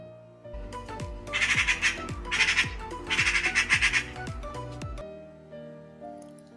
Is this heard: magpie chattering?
yes